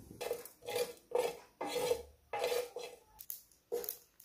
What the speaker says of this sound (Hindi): जीरा को रोस्ट कर लेंगे। गैस को सिम पर रखा है।